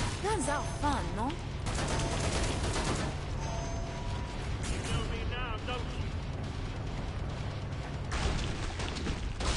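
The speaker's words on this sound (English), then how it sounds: "That's shooting." Continuous gunfire and explosions from Killing Floor 2 fill the scene, loud rapid bursts layered with game effects while people talk over it.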